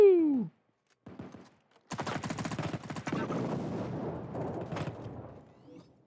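Automatic gunfire from the mobile shooter Battle Prime, a short sharp burst followed by a sustained dense rattle of rapid shots lasting several seconds, loud and close, with brief game sound effects before it.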